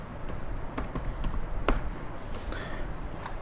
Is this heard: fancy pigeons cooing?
no